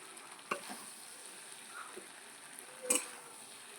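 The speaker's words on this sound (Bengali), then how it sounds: "চিকেন পকোড়া দিয়ে এবার ভালো করে কষিয়ে নেব" Chili chicken pakoras stir-fry with spices in a pan, making a soft, steady sizzle broken by a few scraping spatula strokes. No one speaks.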